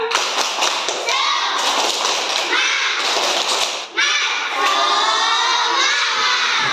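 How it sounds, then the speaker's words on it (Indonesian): Children in a classroom shout the 'tepuk semangat' clapping chant, loud chanting voices over sharp rhythmic claps and thumps, with a brief pause midway before the group resumes. "Tahu tepuk semangat? Tahu. Tepuk semangat."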